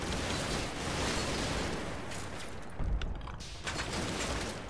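Sustained suppressing gunfire poured onto a house in the Combat Mission: Battle for Normandy wargame, a dense continuous rattle of rifle and machine-gun fire with a heavier burst near the end, loud and unbroken with no talk.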